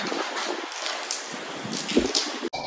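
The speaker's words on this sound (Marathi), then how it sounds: "अजून पण बारीक बारीक पाऊस चालू आहे" Light drizzle patters softly, a faint steady hiss with a few slightly louder drops and no voices.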